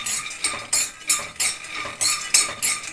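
Peanuts are dry-roasted in a pan and stirred, a rhythmic rattling swish of nuts tumbling against metal at roughly three strokes per second, close and fairly loud with no voices.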